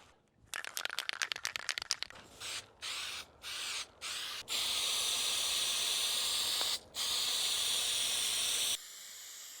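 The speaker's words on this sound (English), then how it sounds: "And then we're gonna spray it on this." Heavy-duty spray adhesive sprayed from a can during a home renovation: a run of quick, rattling short bursts, a few separate sprays, then long, steady hissing streams, close and alone.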